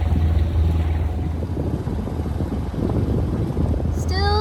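A cruising boat motors steadily down Florida's Intracoastal Waterway, its low engine drone continuous and loud, with wind buffeting the microphone and water rushing alongside throughout.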